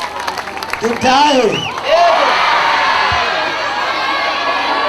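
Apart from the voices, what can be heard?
crowd applauding and cheering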